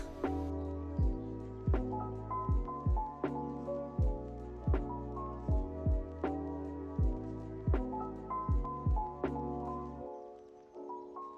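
A sewing machine stitches a narrow 5 mm hem on a halter-back jumpsuit, running in short bursts, each ending in a sharp thunk, in an even repeating pattern, close and clear, then stopping near the end.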